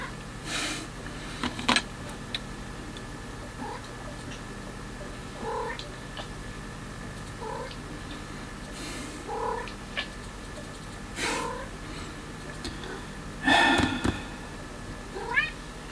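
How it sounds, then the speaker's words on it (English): A house cat meows repeatedly in short, evenly spaced calls over a steady low purr, close to the mic indoors, with a louder burst near the end and no talking. "My cat seems to be wanting to get on the act."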